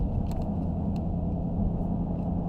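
A 2020 Dodge Challenger Hellcat Widebody rolls down the road, heard from inside as a constant low engine drone and road rumble, steady and fairly loud with a few faint clicks.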